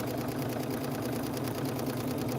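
A sewing machine runs steadily on long straight seams, a continuous fast mechanical whir with an even rhythmic chatter, fairly quiet and close, with no pauses.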